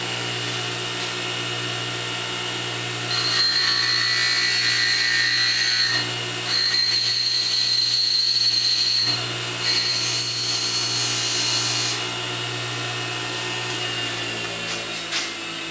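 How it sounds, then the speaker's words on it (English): A bench grinder hums steadily while cutting lock pick cutouts, with three loud, high-pitched grinding bursts of about three seconds each as the metal is pressed to the wheel. "I'm going to turn on my bench grinder, and I'll show you how fast you can get those other cutouts in there with a bench grinder."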